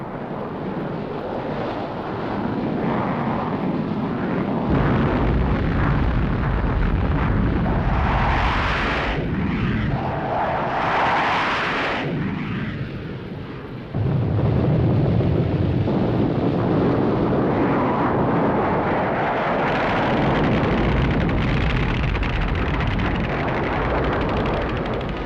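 Military strike aircraft of the British Navy fly overhead as a broad, steady roar. The roar swells and fades in waves, mixed with wind-like rushing noise.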